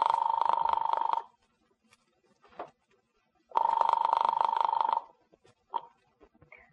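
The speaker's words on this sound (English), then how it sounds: "As I dialed Daisy's apartment," A telephone rings in a radio drama just after a number is dialed: two long electric bell rings separated by a pause, loud and close, with brief faint clicks in the gaps and no talking.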